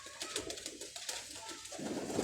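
Low, soft cooing from Ferozpuri pigeons runs through the clip beneath a bright, noisy background, the calls blending in a continuous murmur close by.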